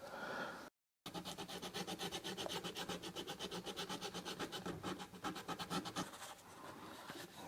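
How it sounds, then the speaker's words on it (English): Sanding the inner part of a WINWING F-16EX Viper joystick grip, rapid rhythmic back-and-forth scratching strokes, close and steady for several seconds after a brief gap, then slowing near the end. "I'm gonna sand this inner part to make this a little bit more smooth"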